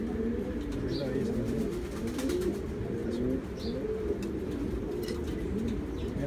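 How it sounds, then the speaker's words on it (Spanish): A male homing pigeon coos repeatedly close by, calling a female to the nest, with soft rolling coo phrases and occasional faint chirps in the background. "llamando una a la paloma para que esté en el nido"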